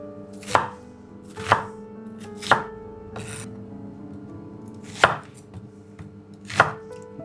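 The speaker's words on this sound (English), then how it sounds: "it's just coarsely chopped or diced." Onions coarsely chopped with a knife on a board for chicken pathia, six sharp, evenly spaced chops ringing close and crisp over a quiet background, with a faint rubbing between strokes and no talking.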